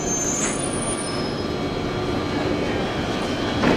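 A London Underground tube train runs loudly and steadily, its wheels squealing in thin high whines over a constant rumbling roar of the carriage.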